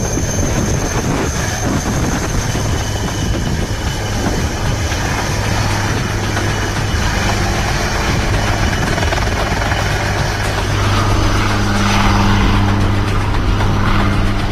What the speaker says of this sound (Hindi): एडवांस्ड लाइट हेलीकॉप्टर ध्रुव अकेला ऐसा हेलीकॉप्टर है जो सियाचिन की सबसे दूर मौजूद आर्मी पोस्ट पर भी लैंड कर सकता है